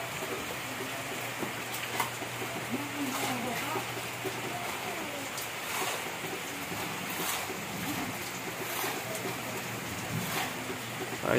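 Steady rain pours over an outdoor construction site where a concrete pour carries on, a broad hiss with scattered drips and taps, and people talk faintly in the background.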